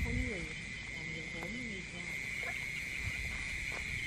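Frogs calling at night from a flooded rice field in hot weather, a steady insect-like trill over scattered croaks, with someone talking throughout.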